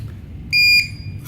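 A single clean electronic beep, loud and steady for about a third of a second, sounds from a unit being set up with a program card during an FCE firmware update, with quiet room noise before and after.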